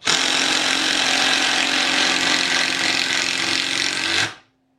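A Milwaukee M12 impact driver running hard on wood, a loud continuous rattling hammer buzz that holds steady for about four seconds, then cuts off abruptly, close up and with no talk.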